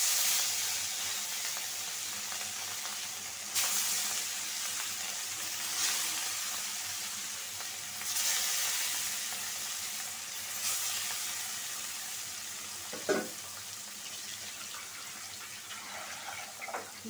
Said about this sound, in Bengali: কড়াইটা গরম হয়ে গেছে, মাছটা দিয়ে দিই।